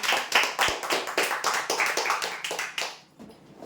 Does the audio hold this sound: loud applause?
yes